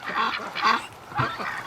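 Domestic ducks and drakes gathered outdoors by a barn and shed call in loud, close honking quacks, several bursts in quick succession with short pauses between them.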